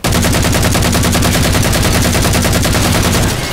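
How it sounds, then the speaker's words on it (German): Automatic weapon fire from the video game Halo 4 rattles in a loud, rapid, evenly spaced burst of shots with heavy low thumps, sustained and then cut off near the end. "Vor allem die Waffensounds sind klasse."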